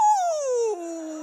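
A single human voice howls in imitation of a wolf at a women's leadership keynote, a loud, sustained tonal cry that slides steadily downward in pitch over about a second.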